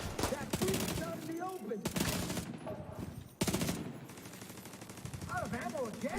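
Rapid automatic turret fire in The Division 2, dense bursts of shots rattling through most of the stretch with brief gaps, mixed with other combat noise and some voices.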